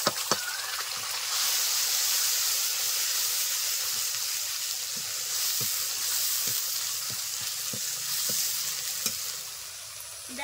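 Mustard-poppy paste and green chili paste fry in hot oil with a steady, dense sizzle, broken by regular spoon taps and scrapes as the masala is stirred, close and without talk.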